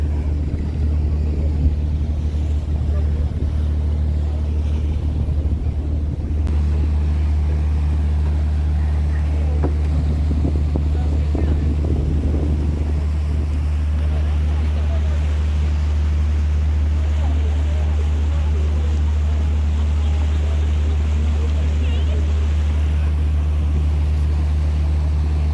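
Motorboat cruising through the Stockholm canals toward the archipelago, with a constant loud low engine drone and water wash running steadily throughout.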